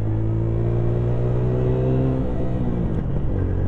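A car drives at night with a steady, loud engine hum and drone that changes pitch slowly as it cruises along, heard from inside the car with no talking.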